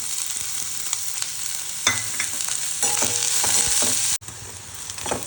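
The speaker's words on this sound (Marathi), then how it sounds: "तेलामध्ये सगळ्यात अगोदर मी कांदा टाकून घेणार आहे" Onion sizzling steadily in hot oil in a pan for a bombil (Bombay duck) chutney, a constant bright hiss with occasional stirring scrapes and clinks, close and fairly loud, with a brief dropout near the end.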